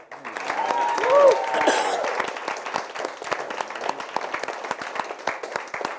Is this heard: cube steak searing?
no